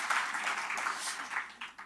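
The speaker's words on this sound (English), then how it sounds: "You can clap again." Audience applause at a literary awards gala, a short burst of light, fairly faint clapping from a hall full of people, steady for under two seconds and tapering off at the end.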